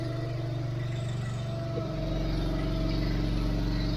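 A car engine idles with a low rumble, then a light throttle blip brings the revs up into a steady, heavier drone, close and continuous with no talk.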